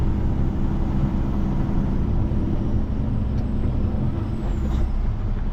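A dump truck with air brakes idles in traffic during hurricane cleanup, its engine rumbling loud and close throughout, with a short faint hiss of released air near the end; no voices.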